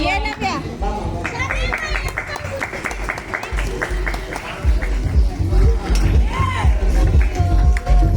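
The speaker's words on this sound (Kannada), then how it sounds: "ಮತ್ತೊಂದು ಜೋರಾದ ಚಪ್ಪಾಳೆ" An audience at a Karnataka festival drawing competition claps loudly for a participant, the applause swelling stronger toward the end while a voice speaks over the crowd.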